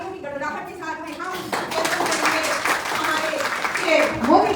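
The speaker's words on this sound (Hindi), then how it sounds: "तो सबसे पहले तालियों की गड़गड़ाहट के साथ में हम" Clapping from an audience at a teachers' workshop begins partway through and swells to a dense patter, while a person speaks over it at the start and voices continue underneath.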